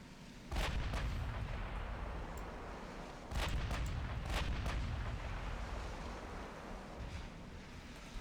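Naval guns fire in Ultimate Admiral Dreadnoughts, heavy booming salvos landing at two moments with sharp cracking reports over a constant low rumble of the sea.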